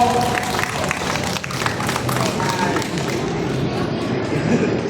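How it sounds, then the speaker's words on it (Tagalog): Applause from a Christmas party audience welcoming arriving sponsors, steady dense clapping that stays loud for the whole stretch, with some voices mixed in. "Palakpakan po natin sila. Palakpak po."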